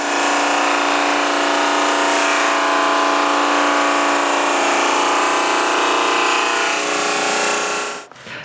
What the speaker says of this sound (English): So I change tools and set up the drum sander and sand those pieces thinner.